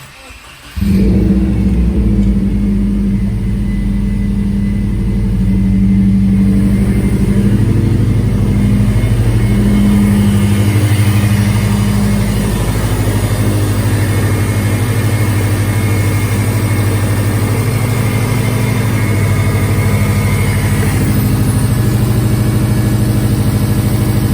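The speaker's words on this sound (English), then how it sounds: "I know it probably sounds a little loud, but that's because it's a cold start" A car engine with a COBB Stage 1+ tune cranks and catches on a cold start, then settles into a loud, steady rumbling idle heard up close, running continuously with a slight rise in revs.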